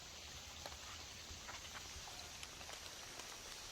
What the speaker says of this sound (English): the rain is hitting